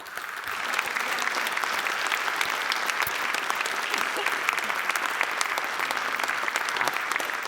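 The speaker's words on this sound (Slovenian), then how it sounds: "in zdaj je aplavz" Sustained applause from a large audience at an award ceremony for the Večernica prize, a dense, steady wash of many hands clapping close by for the whole stretch, with no talk over it.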